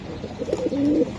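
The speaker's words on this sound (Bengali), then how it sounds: "দেখছেন ভাই কবুতর দেখ ভাই" Budapest racer pigeons coo in a low, rolling murmur, with one drawn-out coo near the end. The birds sound close and clear, with no voices over them.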